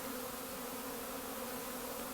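Steady, continuous buzzing of a captured honey bee swarm, a dense droning hum that stays even and fairly close throughout with no voices.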